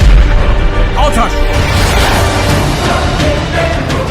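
Gunfire and explosions from the naval combat video game Battle of the Persian Gulf II come as a dense, loud barrage of booms and bursts. The blasts run continuously and overlap throughout.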